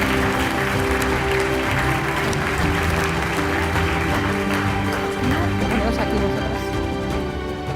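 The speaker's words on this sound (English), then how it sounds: "Round of applause for them, please." An audience at a sustainability seminar applauds steadily, dense clapping that stays loud and even throughout the clip.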